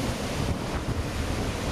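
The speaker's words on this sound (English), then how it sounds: "Early morning, I can hear the wind." Early morning wind gusts across the beach at Fort Stanley, a loud, steady broadband rush buffeting the microphone, with a surf-like roar and no voices.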